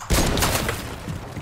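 Gunfire from a sniper rifle in the video game Fortnite, a loud burst of shots amid dense game noise, with no talking over it.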